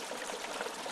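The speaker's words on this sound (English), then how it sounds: "Bring it all the way down, nice and slow. Let it do its bubbling." Hot oil bubbling and hissing steadily as a whole turkey is slowly lowered into a deep fryer outdoors, a dense, even frothy wash at low level with no voices.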